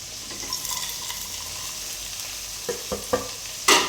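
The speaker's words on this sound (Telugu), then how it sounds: "వేసేసి ఇలా కలుపుకొని కొద్దిగా ఆయిల్లో అయితే కొద్దిగా వేడి చేస్తాం" Salt, chili powder and turmeric heat in oil in a pan, giving a soft steady sizzle under a few close taps and scrapes of a stirring spoon, ending in a louder burst of sizzling.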